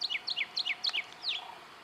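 Common grackle calls, fatter bodied and shorter tailed than great-tailed grackles, sounding as a run of sharp, high, downslurred chirps in quick pairs, then a softer trailing note, fairly close outdoors.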